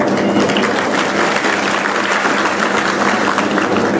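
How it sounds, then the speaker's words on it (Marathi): Steady, dense applause from a large audience at a Marathi political speech by Pasha Patel, rolling evenly for several seconds without pause. "टाळी कशी वाजवायची ठरवा जरा"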